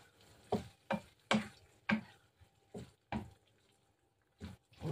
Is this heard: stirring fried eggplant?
yes